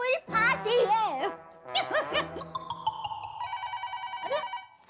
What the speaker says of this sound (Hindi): अरे, फोन आया।